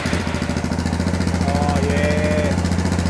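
A Suzuki DR650 motorcycle fitted with a Screaming Demon exhaust runs loud and close with choke applied, its rapid, even single-cylinder thump pulsing steadily throughout.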